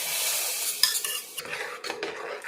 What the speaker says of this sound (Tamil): இப்போ வந்து நம்ம வறுத்து வச்ச சேமியாவை இதில் போட்டுடலாம்